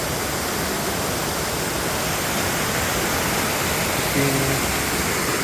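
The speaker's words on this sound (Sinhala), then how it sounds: "මෙන්න තියෙනවා ලස්සන වතුර පාරක්." Steady broadband rush of flowing water fills the whole clip, a constant even hiss like a nearby stream or small waterfall, with no other sounds standing out.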